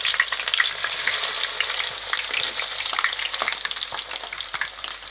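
Mustard seeds and chopped ginger fry in hot oil for a homestyle mango pickle, giving a continuous, close crackling sizzle with light stirring and no voices.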